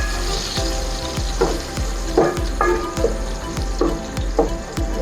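Onions sautéing in a pan for ginisang monggo, a Filipino mung bean stew, give a steady close sizzle broken by repeated scraping strokes of a spatula roughly every half second, with no talking.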